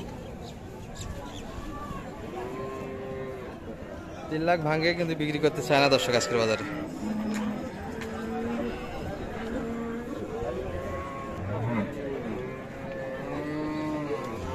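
Friesian cows and a bull calf low repeatedly at a busy cattle market, drawn-out moos near and farther off throughout, with a louder burst of crowd noise midway and someone talking over the animals.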